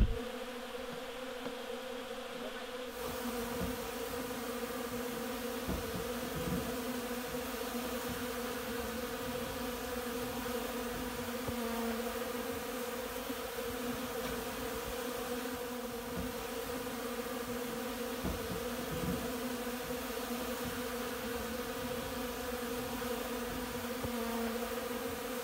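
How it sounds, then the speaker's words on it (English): Dense, steady buzzing of a large mass of honey bees crowding an open feeding station before the almond blossom, a continuous close hum with no voices. "just watching these girls coming and going here, I'm just sort of, I don't know how many extra bees I'm feeding"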